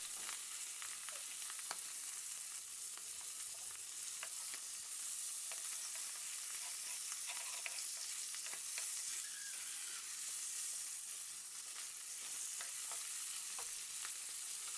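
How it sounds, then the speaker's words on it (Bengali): Fish frying until crisp in a pan, giving a steady, continuous sizzle throughout with occasional stirring clicks, fairly quiet and with no talking. "এদিকে আমার মাছগুলো কিন্তু ভাজাভাজি প্রায় হয়ে যাচ্ছে আমি একটু কড়া করে ভাজি করছি"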